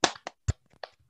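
Children clapping along in a healthy-child clap game in a classroom: several distinct hand claps in an uneven rhythm, close and fairly clear, with no voices.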